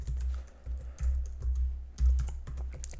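Fingers type on a computer keyboard nearby in quick, uneven clusters of clicks and key thuds, with no voice.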